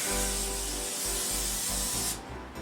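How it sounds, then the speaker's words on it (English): A continuous hissing spray from a cooking spray can onto aluminum foil, close and loud, running in short pulses for about two seconds before cutting off. "Spray your aluminum foil."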